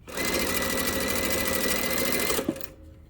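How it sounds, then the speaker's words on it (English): A sewing machine chain piecing quilt strips hums in a fast, even whir close by, then stops with a brief clunk and falls silent near the end. "We're just going to sew them right into each other."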